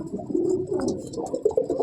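Soft, low cooing of a Madrasi pigeon in a loft rolls on continuously, close by, with faint rustling and small noises mixed in.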